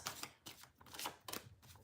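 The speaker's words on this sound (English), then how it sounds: "Let's just get a good shuffle here." Tarot cards are shuffled close up in quick riffling bursts, about four crisp rustling passes in a row, faint and with no talking.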